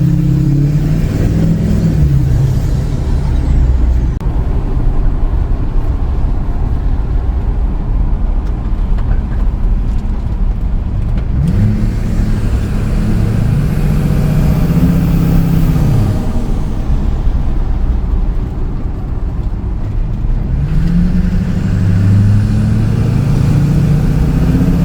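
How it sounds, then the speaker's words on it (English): A pickup truck's factory turbo engine revs loudly and close, rising and falling in about three long swells of throttle over a steady, heavy engine drone with no talking. "what do you guys think of the factory turbo? It does sound pretty good for factory"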